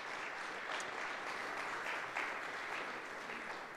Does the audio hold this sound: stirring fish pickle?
no